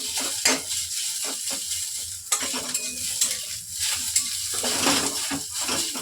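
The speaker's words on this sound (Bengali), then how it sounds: "এই যে ডিমটা আমার ভাজা হয়ে গেছে" Fish roe frying in oil in a pan, a steady close sizzle broken by the scrape and clatter of a utensil stirring.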